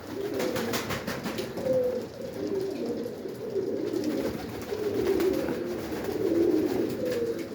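Many pigeons cooing continuously in a loft, the low burbling calls overlapping in a steady chorus with faint wing rustles.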